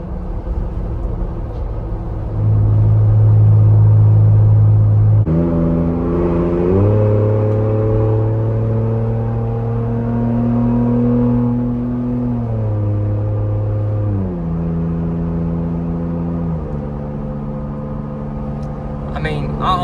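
An SUV tows another vehicle at highway speed with an automatic transmission holding high gears. A loud, steady engine drone fills the whole stretch, its pitch stepping up and down several times as the gearbox shifts.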